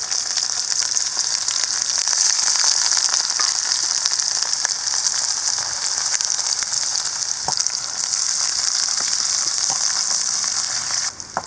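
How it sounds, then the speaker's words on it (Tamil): Small onions and curry leaves dropped into hot oil with popped mustard seeds, sizzling loudly and steadily in an outdoor village kitchen, a dense continuous hiss with occasional faint stirring clicks, no voices. "கட் பண்ணி வச்சுருக்கிற ஒரு 4-5 சின்ன வெங்காயம், ஒரு கொத்து கருவேப்பிலை இதையும் போட்டுடலாம்."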